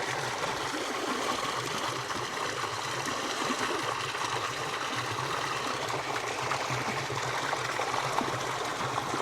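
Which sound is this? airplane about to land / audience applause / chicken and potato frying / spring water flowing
spring water flowing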